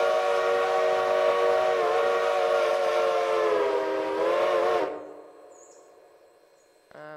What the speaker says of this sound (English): Nathan 5 chime. This one's built in the game too.